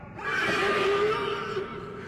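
A horse whinnies loudly in a film scene, a sustained rising-and-falling cry lasting about two seconds with a strained, screaming edge, heard alone without talk.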